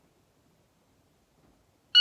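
Near silence, then a loud electronic shot timer beep cuts in abruptly at the very end, during dry-fire practice.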